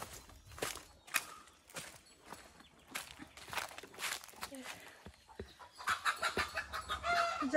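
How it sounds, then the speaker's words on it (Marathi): Chickens cluck at an agrotourism resort near a dam in Madkhol, Sawantwadi, in a busy outdoor scene with footsteps and people talking, the bird calls rising in a denser, brighter run toward the end. "कोंबडीचा आवाज"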